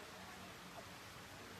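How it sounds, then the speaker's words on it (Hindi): Heavy rain pours down in a steady, even hiss, a dense broadband wash of water with no pauses and no voices. "देख लो कितनी तेज बारिश आ गई।"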